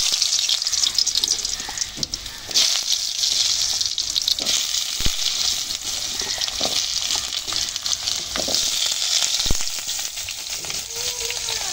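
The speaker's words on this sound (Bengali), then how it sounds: "এখন প্রথম আলুগুলো আমি ভেজে নেব" Potatoes fry noisily in hot oil, a loud continuous sizzle broken by occasional clinks and scraping of stirring.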